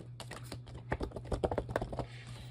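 A laminated heavyweight paper anime merchandise card from 1990s Taiwan is handled up close, giving quick crisp taps, flicks and rustles in an uneven rhythm over a steady low hum.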